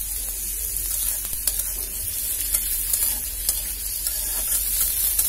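Koi fish fried with egg in a pan sizzles steadily and close, with occasional scraping stirs of a utensil cutting through the constant hiss of hot oil.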